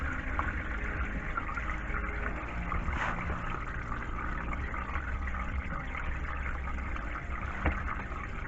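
Transmission fluid from a 2005-2010 Chevy Cobalt with an automatic transmission dripping steadily into a pan, a soft continuous trickle under faint background hum, with no talking.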